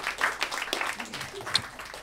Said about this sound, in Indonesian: Tepuk tangan untuk Rio Chan, kawan-kawan.